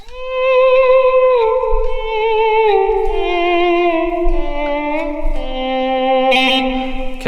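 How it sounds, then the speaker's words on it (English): Ambient slide guitar with subtle reverb from a Flint pedal plays sustained notes that glide smoothly down in pitch, held tones blending into a soft, continuous wash. It is fairly loud and played alone, with no voices. "some subtle reverb from the Flint that sounds like this"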